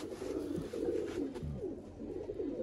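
Breeding pigeons, including teddy and black-faced birds, coo in a loft, with low rolling burbles repeating steadily at moderate loudness over several seconds.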